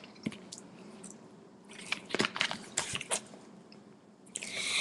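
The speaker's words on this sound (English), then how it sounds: "you don't like me chewing gums in my video or anything?" Juicy Fruit gum being chewed close up, with wet squishy smacks and clicks coming in an irregular cluster of bursts, fairly quiet, no talking over it.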